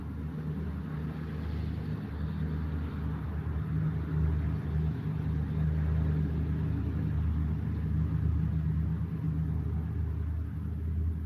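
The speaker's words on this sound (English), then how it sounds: "Truck driving by. Somebody's driving a truck." A truck rumbles past outdoors, a low, steady engine drone that swells gently through the middle and holds at a moderate level, with no talk over it.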